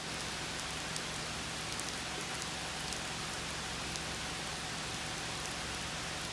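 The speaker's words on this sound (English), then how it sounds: "can you hear the rain?" Steady rain falls heavily and evenly in Hollywood Cemetery in Richmond, Virginia, heard from under a tree, a dense hiss of drops with no voices or other sounds.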